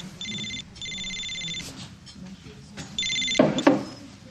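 A telephone rings indoors in a soap opera scene, two clear double-burst rings with a gap between, followed by a brief handling clatter near the end.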